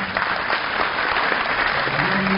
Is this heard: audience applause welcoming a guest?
yes